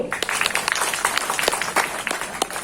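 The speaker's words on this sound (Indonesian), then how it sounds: "Tepuk tangan dulu" A crowd applauds with dense, steady clapping that holds for a few seconds, fairly close and lively.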